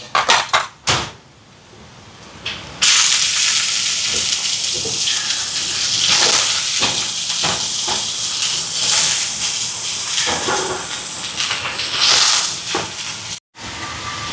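Shredded cabbage drops into a pan of sautéing onions and sizzles loudly, a continuous bright frying hiss with scattered clatters of stirring.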